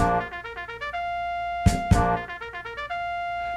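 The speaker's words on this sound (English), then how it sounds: "the trumpet sounds like this." A bright brass instrument plays a quick run of notes, holds a long steady tone, pauses for two sharp hits, then continues its bright phrases.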